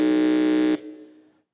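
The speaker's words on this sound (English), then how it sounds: "can I please hear your buzzer?" A quiz contestant's electronic buzzer at a junior science and maths national championship quarter-final, one loud, steady buzzing tone that holds for about three quarters of a second and then cuts off, leaving a short fading echo.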